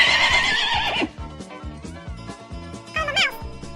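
A horse neighs loudly in a long, shaky whinny, followed by clip-clopping hooves and a second, shorter whinny, all close and clear with no talk.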